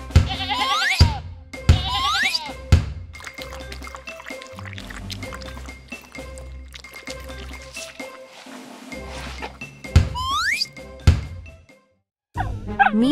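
Cartoon sheep bleating in several short wavering cries spread through the scene, mixed with liquid drips, pours and quiet gaps between the calls.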